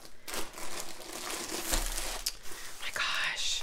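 Branded plastic bag holding diamond art kit contents being opened by hand, giving close, quiet crinkling and rustling in short bursts, with a few faint soft voice sounds.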